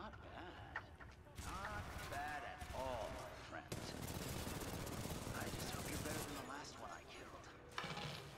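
Weapons firing in the video game Titanfall 2, bursts of rapid gunshots and mechanical clatter running at moderate volume, with someone talking over the action.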